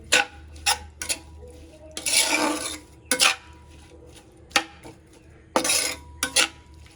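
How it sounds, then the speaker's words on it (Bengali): Potatoes, tomato, coriander and a little spice are mixed by hand in a bowl for a small-fish chorchori, giving irregular bursts of squishing and light clinking with quiet pauses between. "আমি আলু, টমেটো, ধনেপাতা, হালকা একটু মশলা দিয়ে মেখে নিচ্ছি"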